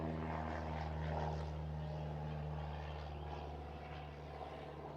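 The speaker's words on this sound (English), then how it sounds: "Airplane." A propeller airplane passes overhead above a truck camper in a community campground, its engine drone steady and strong with a clear harmonic hum that slowly fades toward the end.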